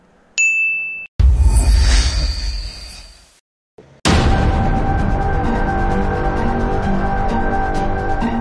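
A bright notification bell dings once near the start, a short clear chime, followed by loud whooshing and music-like noise, with no talk.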